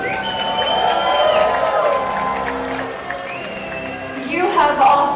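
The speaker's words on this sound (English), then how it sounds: "always my ladies raise a cheer for the horses and riders of the Queen's" Arena crowd at a medieval dinner tournament show cheering and shouting for the Queen's Guard horses and riders, a loud sustained roar with whoops, swelling again at the end.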